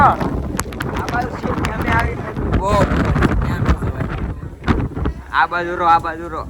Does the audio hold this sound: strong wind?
yes